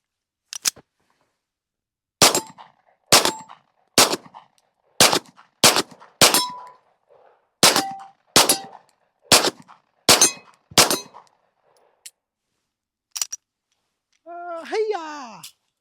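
About a dozen sharp pistol gunshots ring out at an outdoor shooting range in an irregular series of loud, close cracks separated by silence, followed by a brief spoken voice at the end.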